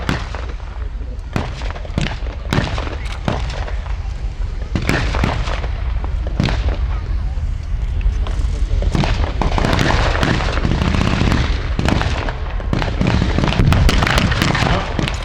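A 20mm cannon fires at a WW2 battle reenactment staged at a tank show, sending repeated sharp blasts and bangs, some in quick bursts, over continuous crowd and engine rumble, with people talking in the background.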